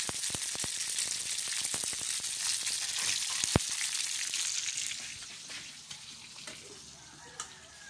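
Fish liver crackles and sizzles in hot cooking oil in a provincial kitchen, with sharp pops over a steady frying hiss that gradually quiets.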